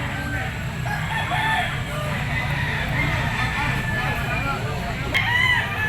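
A sweater yellow-legged stag rooster crows at a pet market, with other fowl clucking around it and people talking over steady crowd noise.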